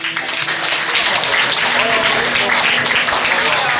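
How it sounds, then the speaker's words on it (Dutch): An audience at a carnival song contest applauds the jury chairman, dense sustained clapping filling the hall for the whole few seconds, loud and close. "Een applaus terug voor de voorzitter van de jury, Krit Tummers."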